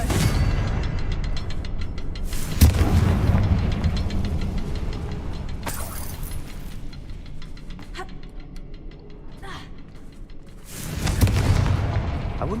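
A Confringo fire spell explodes in a wizarding video game with loud booming blasts, heavy thuds at the start, middle and end over a rumbling game soundscape with scattered clicks and ticks, no voices.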